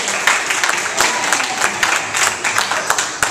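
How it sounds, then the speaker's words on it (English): A church congregation gives a hand clap of praise during a gospel song, brisk uneven clapping from many hands, loud and close, with sharper individual claps standing out. "Y'all give us a hand clap of praise in this place."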